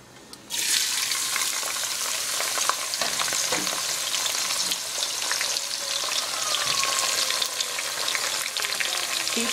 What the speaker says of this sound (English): I'm going to let this fry for about 5 minutes